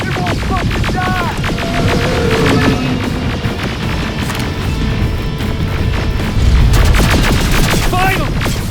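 Heavy, sustained gunfire rattles through a battle in Terminator Resistance, loud and close with overlapping bursts and deep booms. Shouting voices cut in over the shooting.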